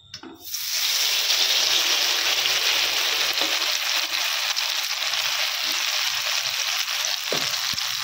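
A ladleful of batter hits hot oil in a kadai and bursts into a loud, dense sizzle within the first second, then holds a steady bright frying hiss with a few soft knocks near the end.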